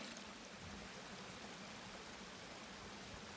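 Water gurgling and burping in a narrow rock crevice outdoors, a steady close rushing wash with no break for the whole stretch.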